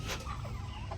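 A chicken with feathered feet, a hybrid fowl in Cebu, gives a short, fairly faint cluck over a low background rumble.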